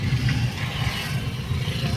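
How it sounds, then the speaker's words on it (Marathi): A vehicle on a potholed road, a low steady engine rumble close by with faint road noise, brief and without talk. "हे गाडी बघा कशी येतात ते"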